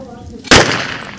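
One sharp, loud pistol shot fired outdoors in a farm field cracks suddenly and then decays over about half a second.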